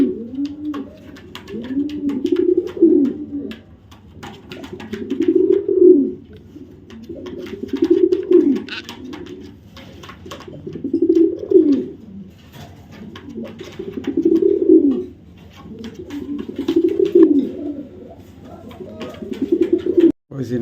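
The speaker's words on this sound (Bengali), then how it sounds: "আজকে ভাই কবুতর দেখাবো কিছু কবুতর দেখেন" Pigeons coo in repeated low throaty phrases, about one every two to three seconds, close and clear over quiet background.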